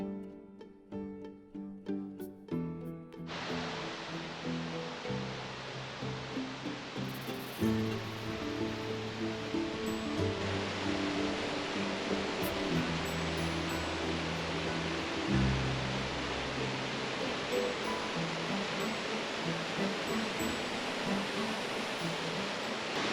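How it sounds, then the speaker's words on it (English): Baker Creek roaring through the woods of Great Basin National Park, a steady, loud broadband rush of fast-flowing water that fills the scene after a brief stretch of muffled handling sounds at the start. "and the creek in the background. And yeah,"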